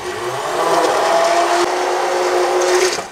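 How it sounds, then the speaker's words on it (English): A hand mixer blends beet soup directly in the pot, a steady, loud motor whine with a churning, slightly shifting pitch that runs continuously for about three seconds. "Because I really like using the hand mixer right in the pot."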